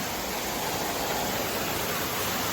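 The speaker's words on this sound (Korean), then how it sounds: "시원한 샘물." Cool spring water gushes and flows steadily at Suksam spring on Gariwangsan, a dense, even rushing splash heard close and without pause for a few seconds.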